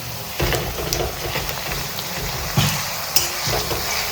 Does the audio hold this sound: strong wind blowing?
no